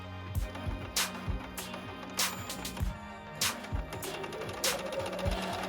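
Sewing machine with a jersey needle stitching hat lining, a few short stitch bursts forward and back, then a steadier run of needle thumps, close and fairly loud.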